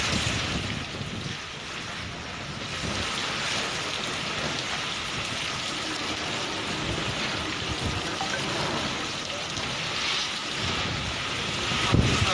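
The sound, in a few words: strong cyclone winds of Cyclone Nisarga at Alibag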